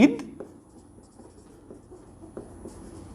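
Chalk or marker taps and scratches against a board during a physics lecture, faint, sparse strokes in an irregular rhythm, with a sharp knock at the very start.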